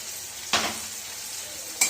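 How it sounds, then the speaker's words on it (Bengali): Potato with cumin, turmeric and chilli powder being stirred in a hot pan, a soft steady sizzle with two sharp scraping stirs of the spatula. "দিয়ে এটাকে ভালো করে কষিয়ে নেব"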